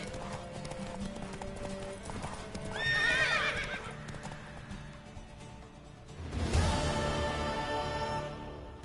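Horse hooves clip-clop steadily through the Witcher 3 game audio, with a loud whinnying neigh around the middle and a second strong neigh later, over continuous game ambience.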